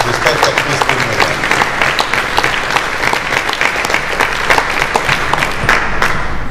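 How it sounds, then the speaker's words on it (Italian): Sustained applause from an audience at a tenth-anniversary event at the Aurum in Pescara, steady dense clapping throughout, loud and close, with a faint murmur of voices underneath. "una città come Pescara debba in questo momento rivolgere anche un ringraziamento con un applauso all'opera che ha fatto Carlo Pace"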